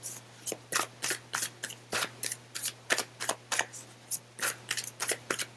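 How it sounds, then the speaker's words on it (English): Tarot cards being shuffled by hand, a steady run of quick crisp riffling bursts, close and fairly loud, with a low steady hum underneath and no talking. "So let's shuffle for those who picked cards 3."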